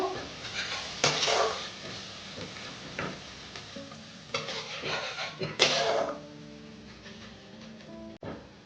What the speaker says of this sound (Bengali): আদা রসুন বাটা দিয়ে একটু নেড়ে নেব।